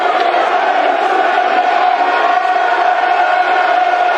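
Millwall football supporters at The Den roar in a dense, sustained wall of crowd noise, loud and unbroken, during a match against Stoke City.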